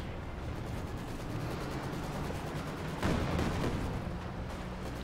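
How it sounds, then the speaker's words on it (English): Katyusha rocket artillery firing in Company of Heroes 2, a dense, continuous roaring rumble of launches and blasts with a louder burst partway through. "Katyusha firing away here"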